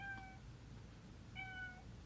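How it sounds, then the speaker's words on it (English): A house cat meows twice, quiet and slightly distant, two drawn-out plaintive cries separated by about a second of near silence. "one of my cats is crying"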